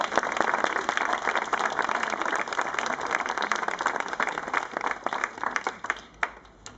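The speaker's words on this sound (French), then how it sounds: "On peut les applaudir." An audience applauds young volunteers at a town event, a broad burst of clapping from many people that holds steady and then thins and fades near the end.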